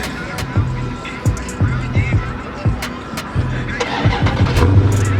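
A lowered car with low suspension rumbles and revs roughly nearby at a car and truck meet, its engine pulsing unevenly with bumps and clatter while people talk over it.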